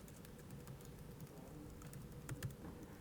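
Faint, quick clicks of typing on a computer keyboard during a PyCharm coding session, soft irregular keystrokes over a quiet room hiss.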